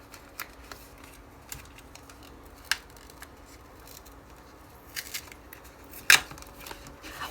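Scissors or a blade cutting at a mail package in a quiet room, with scattered short snips and scrapes, a few louder crisp cuts near the end, close by.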